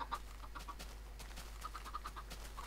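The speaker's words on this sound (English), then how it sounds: "Little baby chickens." Baby chickens in the game Minecraft cluck in repeated short, soft peeps over a steady low game hum, with no talking.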